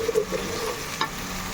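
Mint (pudina) masala frying in oil for pudina rice, a steady close sizzle with a few soft stirring scrapes, alone with no talk.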